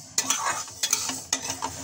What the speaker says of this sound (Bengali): প্রথমে মুগ আর মুসুরির ডাল আমি ভালো করে ভেজে নেব